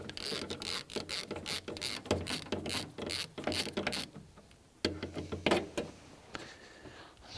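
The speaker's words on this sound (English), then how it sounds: "now with my long extension on my little socket set, undo the bolts holding the shroud to the radiator" A socket set ratchet on a long extension undoing radiator shroud bolts, rapid clicking bursts of the pawl in repeated strokes with short pauses, close and moderately quiet.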